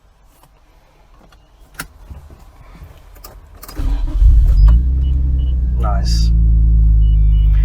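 Nissan Skyline R34 GT-R Nur with a Jasma exhaust cranking and firing up after faint clicks and key sounds, settling into a deep, steady, rumbling idle, close and loud, with a brief spoken word.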